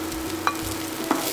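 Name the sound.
scallions sizzling in hot oil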